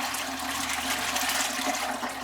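Water pours through a strainer while rinsing papermaking pulp, a steady close gushing rush with no break and no talk over it.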